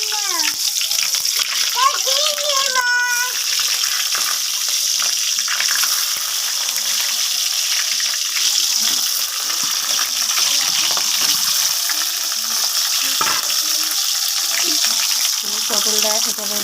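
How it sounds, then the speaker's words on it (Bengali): Pointed gourd (potol) frying in hot oil in a home kitchen makes a steady, close sizzle and crackle throughout, with occasional stirring clinks and a brief voice early on. "তো চলো পটলটা ভেজে নিই"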